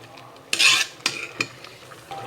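A spoon scrapes and stirs through a pot of boiling snake gourd and chana dal kootu in three or four distinct, close strokes. The first stroke is the loudest, and quieter simmering fills the pauses.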